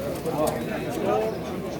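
Birds, likely pigeons, coo in two soft, low calls over a busy bird and pigeon market background with indistinct voices nearby.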